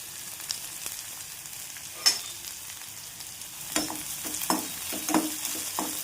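Chopped onions frying in oil with mustard seeds and cumin, a soft low sizzle broken by several sharp stirring scrapes and clatters that grow more frequent toward the end.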